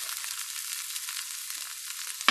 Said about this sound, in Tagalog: So lalagyan na natin yung ating onion.